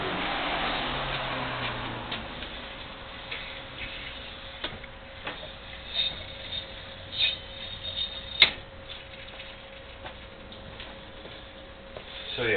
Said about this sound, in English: that noise is just the stabilizer extending out again